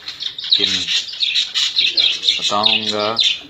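Budgie parrots chirping in rapid, continuous high twittering, with a few louder harmonic calls rising above the chatter, close and fairly loud throughout.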